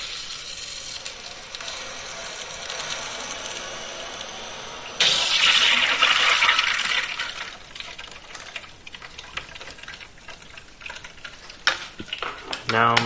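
A kitchen sink faucet is opened slowly and water rushes out steadily, loud and close, easing to a softer flow with occasional clunks.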